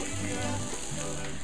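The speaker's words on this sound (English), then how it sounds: "we're going to take the onions and the chilies that we sliced, and we're going to just put them directly into the hot oil" Sliced onions and chilies sautéing in hot oil for papas gratinadas, a dense, even sizzle crackling steadily at close range with no talk.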